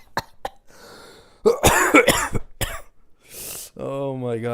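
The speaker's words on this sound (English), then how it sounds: "that actually made me cough from laughing" Harsh bursts of coughing break out from laughter, several rough coughs close to the microphone, followed by a voice speaking.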